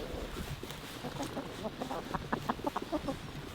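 Egg-laying chickens on pasture cluck softly in a loose, irregular series of short calls, faint against quiet outdoor background noise.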